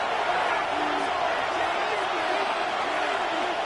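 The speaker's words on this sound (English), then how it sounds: "this crowd making it hard to hear" Stadium crowd in a Madden football video game, a continuous loud roar of many voices with occasional whoops rising over it.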